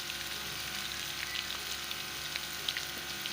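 Garlic and ginger frying in a pan for a home-cooked tori (ridge gourd) sabzi, giving a steady, close, bright sizzle throughout with a few small crackles and faint stirring, and no talking.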